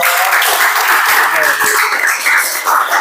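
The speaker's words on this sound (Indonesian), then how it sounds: "Oke, kita berikan tepuk tangan yang bahagia" An audience at a teacher training session applauds, loud and close, with a fairly dense clapping texture and voices mixed in throughout.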